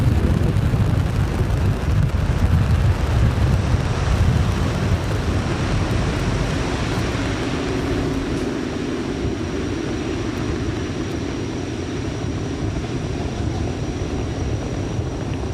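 SpaceX Falcon 9 rocket engines during the Fram 2 launch, a deep, rumbling roar heard from a distance that is heaviest at first and then eases slightly into a steady crackling rumble with no voices.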